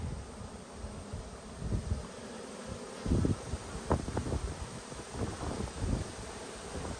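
Bees buzz close by during an inspection of yellow and black hives, a low drone broken by several louder swells as individual insects fly near.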